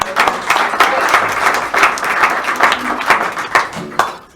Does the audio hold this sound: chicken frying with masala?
no